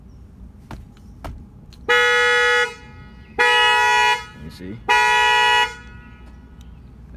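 A Honda Accord's shock sensor alarm sets off the car horn in three loud, sustained honks of about a second each, close by, after a few light taps on the body, with someone speaking briefly.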